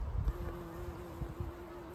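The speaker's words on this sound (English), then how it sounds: "I love watching the bees just go into the snapdragons." Bees buzzing around snapdragons on a summer allotment plot, a close, faint droning hum with a steady pitch, joined by light rustling and a few soft bumps of wind against the microphone.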